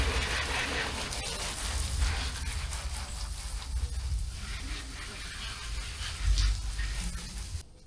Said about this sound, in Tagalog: banlawan na po natin si Lucky